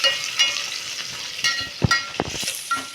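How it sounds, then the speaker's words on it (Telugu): Whole spices, cinnamon bark, cloves and nutmeg, fry in hot oil with ginger and bay leaves for bagara rice, a steady close sizzle broken by a few soft pops and spoon stirs. "దీంట్లో చెక్క, లవంగాలు, జాజికాయ అన్నీ కూడా వేసిన. ఇలా వేగుతుంది కదా"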